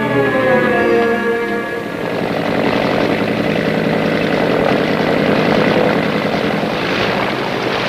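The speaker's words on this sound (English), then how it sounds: "I heard the plane coming." A propeller airplane drones loudly overhead, its engine pitch shifting as it passes close by, steady and uninterrupted with no voices.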